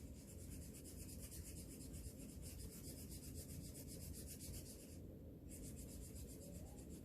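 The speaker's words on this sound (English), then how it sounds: "So I'm going to color that in really well." Marker or crayon colouring firmly back and forth on a folded napkin or coffee filter, giving a steady, close papery rubbing and scratching that continues without pause for several seconds.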